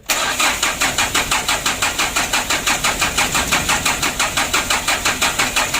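A Mitsubishi 4D34 diesel engine, a rebuilt 120 PS unit, revs hard and steadily close up, its loud knocking clatter pulsing in a fast even rhythm throughout with no voices.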